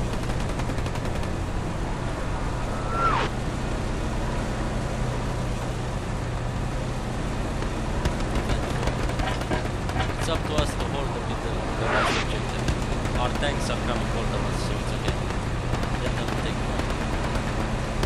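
A tank engine in the WWII shooter Hell Let Loose, on the Foy map, gives a steady low droning rumble through the whole stretch, with scattered gunfire and occasional sharp bangs, while players talk over it.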